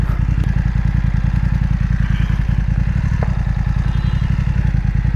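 A motorcycle engine runs continuously up close with a steady rapid throb, straining to back out of thick mud on a muddy road, loud and even throughout with no talk.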